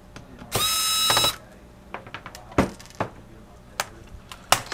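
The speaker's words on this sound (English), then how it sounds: "Go ahead and remove those screws." Screws being removed from a laptop keyboard: one short burst of whirring from a power screwdriver, followed by a scattering of light clicks and taps as the screws come out, close and clear.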